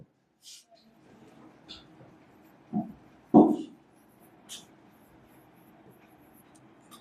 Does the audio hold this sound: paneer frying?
no